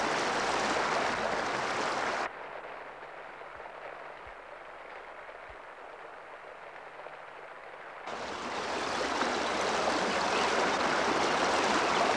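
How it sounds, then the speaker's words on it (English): Streams flow through rolling country in central Spain as a steady, broad rush of water. It drops to a quieter murmur for several seconds, then swells back to a full, continuous roar. "In November, the watercourses come to life, and where they flow into the flatter areas of this rolling country, they spill out to form great pools."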